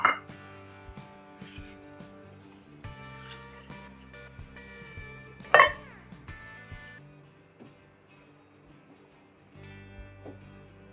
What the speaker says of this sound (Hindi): ये मैं दही वाले बर्तन में पानी डाल के डाल दी